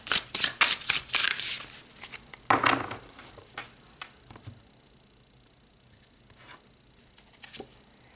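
Tarot cards shuffled by hand in quick, crisp bursts of riffling and flicking, close and fairly quiet, tapering off into softer occasional card handling with no talking.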